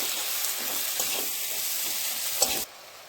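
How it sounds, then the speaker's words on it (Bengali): A spice paste of coriander, cumin and red chilli powder sautés in a pan, a constant close sizzling hiss with faint scraping strokes that cuts off abruptly near the end. "এবারে এটাকে আমি খুব ভালোভাবে কষিয়ে নেব।"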